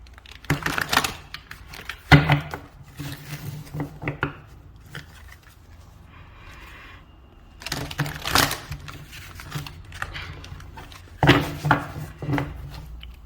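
Crisp bursts of rapid riffling and snapping as a tarot card deck is shuffled, close by, in a few separate rounds with quieter handling between them, no talking.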